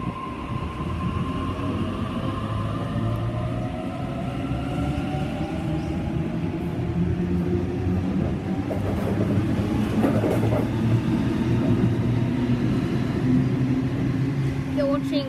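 A train pulling out of the station at Padstow, with a loud, continuous rumble and rising mechanical drone close by, steady rail noise throughout.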